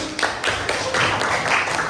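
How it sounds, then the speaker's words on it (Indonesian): A small group of students clapping in a classroom, a brief, uneven patter of hands at close range with a few sharper individual claps standing out. "Tepuk tangan untuk Kalista dan Yuri."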